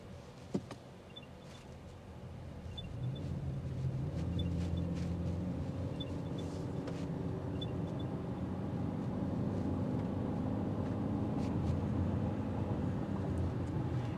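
A 2026 Toyota Camry LE sedan drives and gathers speed, heard from inside as a low engine and road drone that grows steadily louder. Faint regular ticking sounds over it, with no talking.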